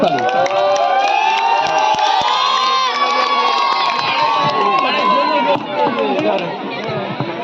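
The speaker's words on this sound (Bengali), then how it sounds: "সবাই একবার জোরে হাততালি" Children at a school fancy-dress competition cheer and shout in a loud, continuous crowd roar with bright excited voices, clapping likely buried in the din, steady throughout and easing slightly near the end.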